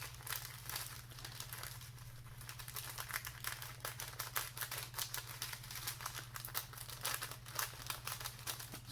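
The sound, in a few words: contact paper being cut and ripped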